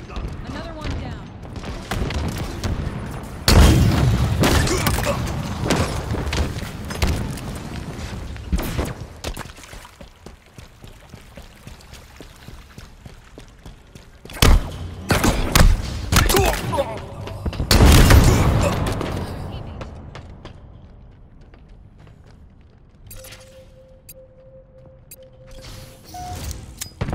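Gunfire in a shooter video game comes as loud bursts of shots and booms in several clusters, mixed with game effects and talk.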